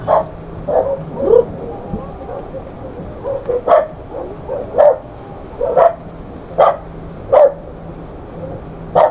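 A dog barks repeatedly in short irregular bursts at moderate distance, over a steady low background with faint voices.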